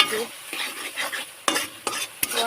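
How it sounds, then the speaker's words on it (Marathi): Egg curry masala being stirred and flipped in a pan, with steady scraping and a soft sizzle underneath, broken by a few sharp, close spatula knocks against the pan. "आणि मसाला पण टाकून घेतले मस्त असे पलटून घेते"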